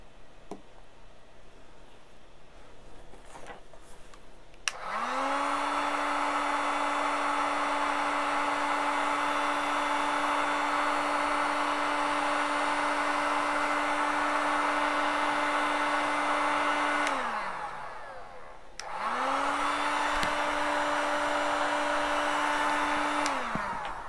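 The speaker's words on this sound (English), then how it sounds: "I've soldered the wire here, and I put heat shrink sleeves. So I will heat it up." A heat gun blows steadily over heat shrink sleeves on freshly soldered wire, a loud whirring hiss that runs for about thirteen seconds, cuts off briefly, then starts again.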